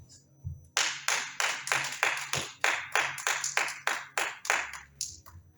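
Church congregation applauding together, a burst of rhythmic clapping that starts after a brief pause and holds steady, about a dozen strong pulses over a low room hum.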